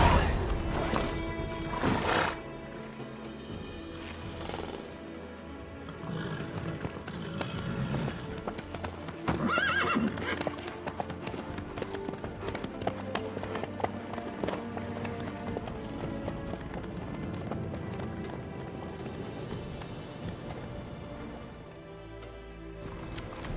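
A horse galloping in The Witcher 3: Wild Hunt, with steady clip-clop hoofbeats running through the whole stretch under a dense bed of game music and ambience.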